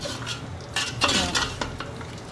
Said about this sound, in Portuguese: Vou dar uma mexidinha pra envolver aqui na gordura de novo.